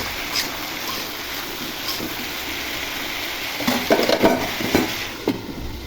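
Potatoes and pointed gourd frying in a pan with salt and green chilies, stirred with a few soft scraping strokes toward the end over a steady low hiss.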